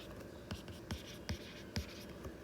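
A pen scratches across paper as an equation is written by hand, with a soft continuous rasp broken by four or five sharper stroke taps at a fairly even pace.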